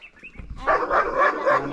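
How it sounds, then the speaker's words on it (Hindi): A German Shepherd barks loudly and repeatedly at close range in a home, a run of sharp, rough barks after a brief quieter whine, no voices over it. "जर्मन शेफर्ड इतना जोर से भौंक रहा है।"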